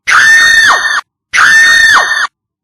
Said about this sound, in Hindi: थोड़ी ही देर में उसके चीखने की आवाज आने लगी